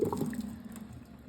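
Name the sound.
water being drained off boiled potatoes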